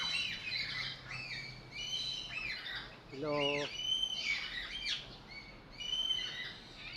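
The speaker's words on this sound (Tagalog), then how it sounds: "Ito po yung maganda pong ibon." A bird calls with varied squawks and chirps, repeated throughout, while a voice briefly speaks underneath.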